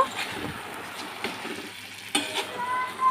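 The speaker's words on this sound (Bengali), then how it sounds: "এবারে নামানোর আগে ওপর থেকে একটু কাঁচা সর্ষের তেল ছড়িয়ে দিলাম এটা একটু মিশিয়ে নেব" Potol curry being stirred in a pan after raw mustard oil is drizzled over it, a soft frying sizzle with scraping spoon strokes against the pan, close and moderately loud.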